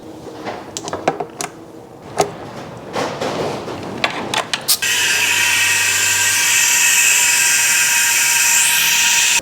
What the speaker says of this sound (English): we're gonna be using our specialty air-powered tool filled with lovely LIQUIMOLY